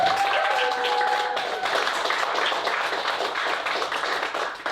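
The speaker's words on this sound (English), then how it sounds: "Go ahead and make it loud if you think that Guam was the most fucked up comedian this year" A comedy-show audience claps and cheers loudly to vote for a stand-up comedian, a dense burst of applause with some whoops that starts strong and gradually tapers.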